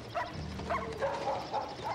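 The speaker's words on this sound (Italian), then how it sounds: "E quei cani." Dogs barking at night in short yips and bow-wows, several bursts spread across the moment, moderately near over a low steady background.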